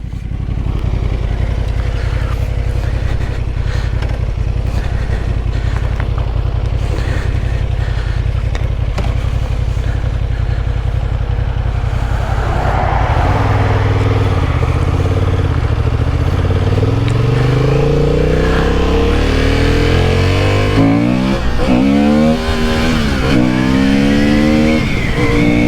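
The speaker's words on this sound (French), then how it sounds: "Au niveau bruit, ils ont bien travaillé le pot, ça fait un joli bruit." The 2023 Honda Hornet 750 twin-cylinder engine and exhaust drone loudly and continuously while riding, the pitch rising and falling through repeated revving and gear changes, with heavy wind noise over the top.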